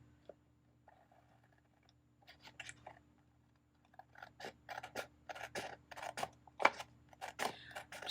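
Scissors cutting out two boxes from a paper Happy Planner page, a run of crisp snipping clicks that speeds up into rapid close cuts, quiet and without talking.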